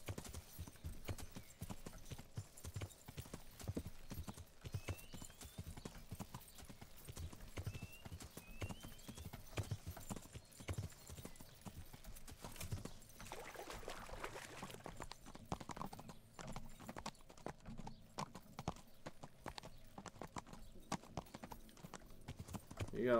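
Horse hooves clip-clop steadily through a ride in Kingdom Come: Deliverance, a continuous rhythmic trotting close up, with a brief whinny-like tone and scattered game sounds mixed in.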